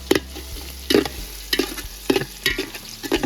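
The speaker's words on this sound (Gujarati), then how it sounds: "આપણે ડુંગળી એડ કરી દેવાની છે એમાં બધી તેલમાં સડી ચડવા દેવાનું છે" Onions frying in oil with chillies in a pan, a steady sizzle broken by repeated stirring scrapes roughly every half second, close and fairly loud with no talking.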